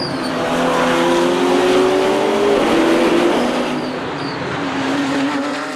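Race cars, a Porsche among them, charge off the start at the Ledenon circuit in a continuous roaring wall of engine noise, several motors blending together with rising pitches and some tire noise.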